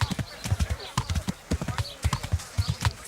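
Horse hooves clip-clopping at a steady trot in Kingdom Come Deliverance, a rapid even rhythm of close hoof strikes throughout, with a faint voice underneath.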